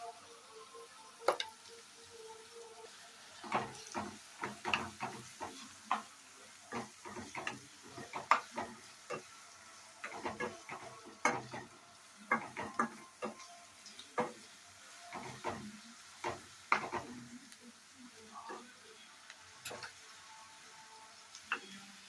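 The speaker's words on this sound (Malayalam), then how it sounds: "ഇതിലേക്ക് 2 സവാള അരിഞ്ഞത് ഇട്ട് കൊടുക്കാം. നല്ലപോലെ വഴറ്റിയെടുക്കാം." Chopped onions, two of them, sautéing in a pan for a Kerala-style prawn curry with roasted coconut, with a steady low sizzle broken by frequent sharp scraping and tapping strokes of a spatula against the pan, no voices.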